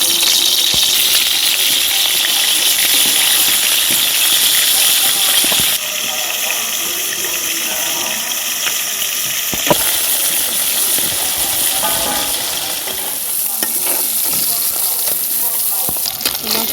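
Bata fish fry in a hot wok, giving a loud, steady oil hiss and sizzle that shifts in intensity as pieces are added, with faint clinks throughout.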